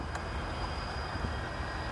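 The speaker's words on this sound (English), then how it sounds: "now here's the trains, and you can hear them right here" Trains passing nearby, heard as a steady broad rumble and rushing roar that holds constant throughout at moderate volume with no clear individual clacks.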